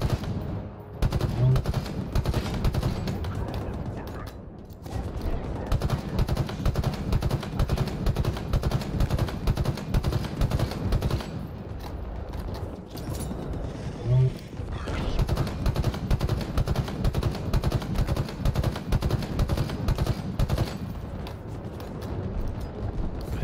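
Rapid automatic gunfire rattles almost nonstop in Halo Infinite, loud and close, broken only by two brief pauses, with a voice talking now and then underneath.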